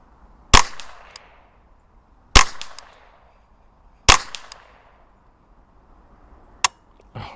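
Rifle fired from a standing position at targets, three sharp loud cracks spaced about two seconds apart, each trailing a short outdoor echo, followed by a fainter click near the end.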